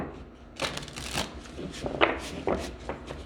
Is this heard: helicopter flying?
no